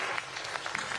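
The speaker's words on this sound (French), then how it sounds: "cette salve d'applaudissements au discours de Denis Sassou Nguesso" Audience applause following Denis Sassou Nguesso's speech at the COP29 climate conference, a brief, steady burst of many hands clapping at moderate distance.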